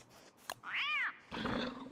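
A cat gives a single short, clear meow, fairly close but soft, with faint indistinct noises before and after it.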